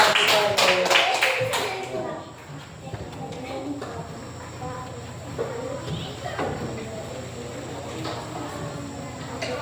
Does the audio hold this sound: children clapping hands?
yes